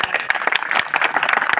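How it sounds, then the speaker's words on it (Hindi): Applause at a Shrimad Bhagavat Katha gathering, an audience clapping vigorously for the learned scholars; dense, loud overlapping claps with sharp individual hits throughout the short burst, no talking. "मैं चाहूँगा कि एक बार आप सब लोग अपने लिए और इस व्यासासन के लिए, विद्वजनों के लिए जोरदार तालियां बजाएं"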